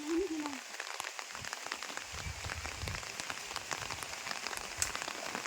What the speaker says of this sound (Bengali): সকালবেলার ওয়েদার বৃষ্টি ভেজা গ্রামের সকাল